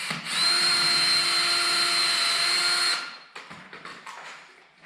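A power drill drives 1 5/8-inch exterior screws into boards for a chicken brooder build, a loud steady high whine for about three seconds, then fades into scattered clicks and handling noises.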